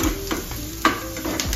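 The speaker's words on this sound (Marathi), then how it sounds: "म्हणजे भाजला वेळ तडथड फडफड होऊ द्या कांदा आणि कढीपत्ता" Onion and curry leaves sizzle in a hot pan for egg bhurji, a steady frying hiss broken by crackles and a few sharp pops and spatula scrapes, close and alone.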